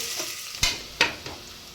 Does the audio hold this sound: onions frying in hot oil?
yes